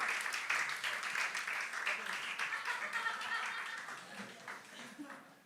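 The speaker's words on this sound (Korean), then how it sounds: "우리 큰 박수로 맞으시면 감사하겠습니다." A congregation at a Korean youth worship service claps warmly. Chuckles and murmured voices mix with the applause, which slowly thins and fades toward the end.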